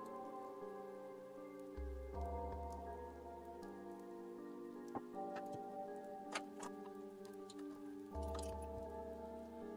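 Rain pours steadily through an alley in the CHAOS;CHILD visual novel, an even wash of droplets beneath layered background music, punctuated by a few faint ticks and light taps.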